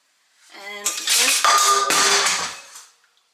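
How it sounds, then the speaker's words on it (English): Metal pans clatter and bang together in a kitchen, a short, loud burst of clanks and ringing that quickly dies away. "try not to throw frying pans around the kitchen"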